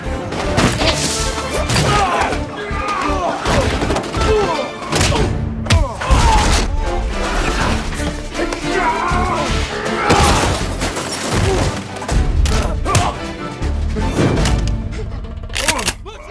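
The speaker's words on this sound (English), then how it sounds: "affected sequence features Beck striking various enemies with shotguns, which plays as follows in the uncut version" A fight scene from the action film The Rundown, with shotgun blows, gunfire and heavy thuds landing in a dense, loud clash of impacts, layered with shouting voices and music.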